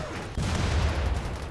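Explosive rocket fire from RPGs pounding centipedes in modded Rimworld, a sudden loud burst at the start that becomes a dense, sustained rumble of blasts and impacts.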